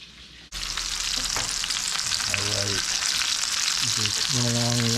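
Chicken cordon bleu frying in a pan gives a loud, dense, continuous sizzle that starts abruptly after a moment of quiet and holds steady, with faint tonal squeaks and crackles riding over the hiss, close up.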